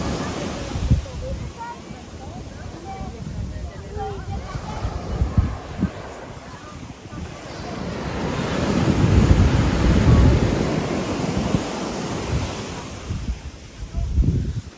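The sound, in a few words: waves on a beach in Guadeloupe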